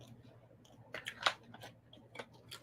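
Someone chewing crunchy dried apple with the mouth shut, several crisp crunches and bites at an uneven pace, close and fairly quiet over a low background hum.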